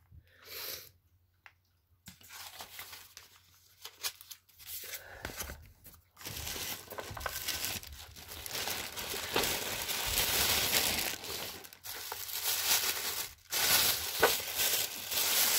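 Tissue paper crinkles, crunches and tears during unwrapping, in bursts of close rustling with short quiet gaps, growing busier and louder toward the end; no talking.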